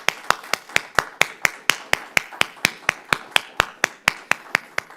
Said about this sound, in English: one round of applause for Molly